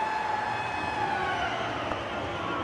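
A sustained end-of-period siren from NHL '94 video game hockey blares steadily at moderate loudness, with crowd noise underneath and no speech.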